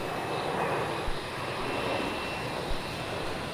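Wamos Airbus A330 jet departing Melbourne Airport for Manila, a steady broadband engine roar heard from the terminal at moderate distance, continuous and even throughout with no talk.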